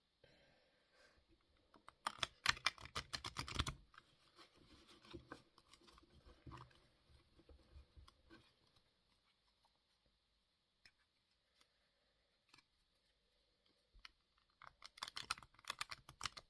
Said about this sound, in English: first time shuffling circular decks